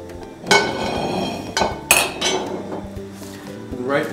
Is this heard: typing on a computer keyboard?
no